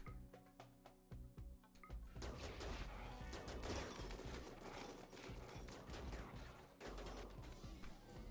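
Centipede mech in the RimWorld video game firing, dense rapid bursts of gunfire following a few sharp separate shots, loud and sustained with crashing impacts.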